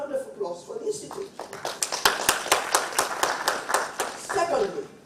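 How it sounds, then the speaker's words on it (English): A round of applause at a national conference on farmer-herder relations in Nigeria, a scattered group clapping in loose, uneven bursts that build and then thin out, with a voice speaking over the start and end. "A round of applause for the Institute."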